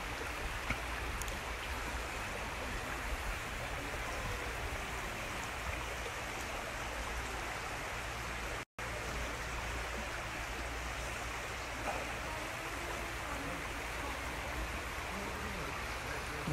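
A little stream near Pooley Bridge after rain pours along in a constant close wash of water, steady and unbroken apart from one brief dropout, with no talking.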